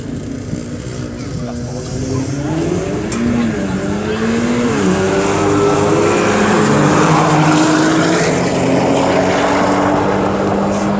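A GTO drag racing car launches on the Elvington airfield strip, its engine roaring loud and rising in pitch with gear shifts, with voices talking over the sustained roar.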